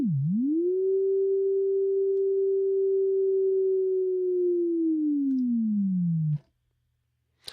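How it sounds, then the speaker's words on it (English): A synthesizer sine wave holds one smooth, steady pitch after a quick dip at the start, then slowly bends downward under pitch modulation before cutting off abruptly into silence, with a faint click at the very end. "So I am using a sine wave"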